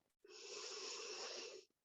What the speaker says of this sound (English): Once again, breathing in